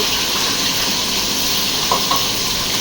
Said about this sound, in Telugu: ఇక్కడైతే చూడండి ఆనియన్స్ అయితే యాడ్ చేస్తున్నారు